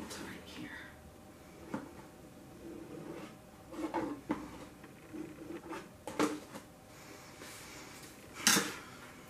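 Acrylic paint being scraped off a surface during a rainbow acrylic pour, heard as quiet, scattered scrapes and light clinks with a sharper scrape near the end, over a low background.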